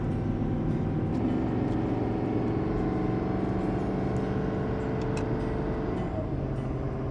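A straight-piped Ram Cummins diesel truck with a 5-inch exhaust pulls uphill on steady throttle, its loud continuous drone and rumble holding without a break.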